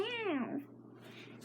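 A human voice imitates a cat's meow, giving one drawn-out, falling meow-like call followed by quieter murmurs and a brief noise at the end.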